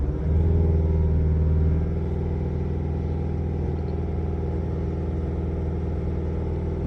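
A Mazda CX5 diesel engine holds a steady 2,500 RPM, a continuous mid-pitched drone with a low rumble that eases slightly after the first two seconds and then stays even, with no talk.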